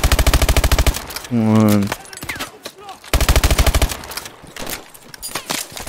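Automatic gunfire from Call of Duty: Advanced Warfare rattles in loud rapid bursts, broken by a short synth tone and scattered shot effects, with a brief voice speaking midway.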